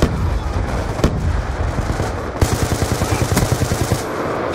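Intense gunfire rattles through a video game shootout, rapid automatic bursts and sharp individual shots, loud and close, with a fast regular volley of reports toward the end.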